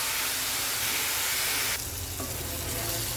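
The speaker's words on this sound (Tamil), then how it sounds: "வெங்காயம் வந்து கோல்டன் ப்ரௌன் ஆகிற வரைக்கும் வதக்கிக்கோங்க." Sliced onions sauté in hot oil in a pan for a pepper chicken masala, giving a continuous dense sizzle and frying hiss that shifts slightly as they are stirred, with no voices.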